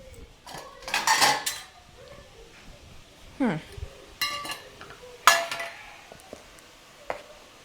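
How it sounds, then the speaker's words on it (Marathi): Gram flour being measured into a bowl with metal utensils: scattered clinks and clatters of spoons and cups against vessels, with a brief scrape, close by and intermittent, as someone speaks softly in the background. "हे जे बेसन आहे हे पण आता मेजर करून एका भांड्यात घेते"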